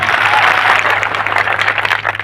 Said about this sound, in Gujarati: તમામ પોલીસ અધિકારીઓ માટે પણ જોરદાર તાળીઓ પાડવી